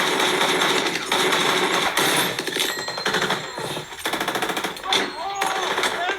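Rapid automatic gunfire from combat in Mosul, dense bursts of loud rattling shots filling most of the stretch, with a few brief lulls and sharper single cracks near the end.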